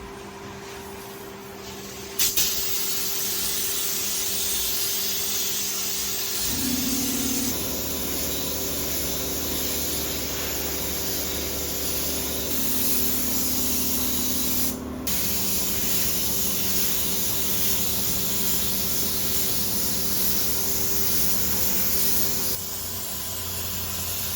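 Primer sprayed onto the body of a 1982 Ford Bronco undergoing bodywork, a loud steady hiss of the spray gun running almost continuously with a brief quieter start and a slight drop near the end, no talking.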